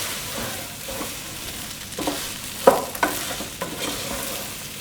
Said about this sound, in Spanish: Revolvemos y le adicionamos la cúrcuma con el azafrán.